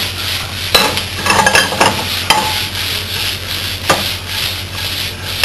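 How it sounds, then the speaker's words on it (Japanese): Mushrooms and smoked chicken sauté over high heat in a pan, loud sizzling broken by repeated scraping stirs and a few sharp knocks of a utensil, close up with no talking. "マッシュルームですね、強火でソテーしてください。 でそうしましたらスモークチキンを入れます。"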